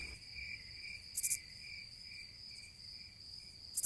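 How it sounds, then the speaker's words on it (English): Crickets and cicadas outside a window keep up a steady, high-pitched chirring drone, faint and continuous, with a few brief louder bursts of insect trilling, and no voices. "a symphony of crickets and cicadas outside my window is so loud"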